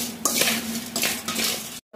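Spiced guava being mixed in a bowl with red chili and chaat masala, quiet scraping and clinking of a utensil against the bowl in a few short strokes, then a brief pause.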